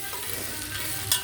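A tempering of mustard seeds, cumin, onions and green chillies fries in sesame oil, giving a soft, continuous sizzle with faint crackles and a brief stirring scrape near the end.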